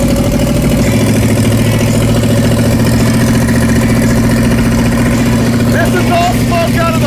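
A 1968 Ford Mustang Mach 1 engine, newly restarted, runs steadily at idle, a loud continuous rumble with a regular pulsing throb.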